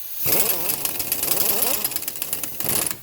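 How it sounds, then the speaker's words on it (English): A power tool whirs loudly and steadily close by while pressing in a wheel bearing on a 2003 Toyota Corolla, its harsh buzzing motor rising and wavering as it runs for a few seconds. "Get your power tools and run it up, of course."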